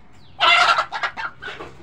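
A Berad and Gavrani cross-breed hen clucks in a loud burst of squawking, followed by several shorter clucks that fade, close by with no talk.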